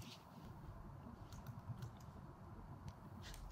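Quiet, rapid keystrokes on a computer keyboard while code is written, a soft run of light clicks at low level with no voice.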